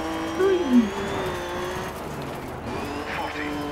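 A rally car skids under a handbrake turn in the DiRT 3 video game, a brief tire squeal over a steady, sustained engine drone with no voices.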